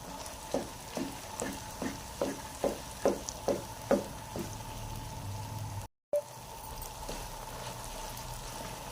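A spoon scrapes and stirs makhandi halwa roasting in a pan, giving about a dozen soft, evenly spaced strokes over a low frying sizzle, then settling into a quiet, steady background hiss.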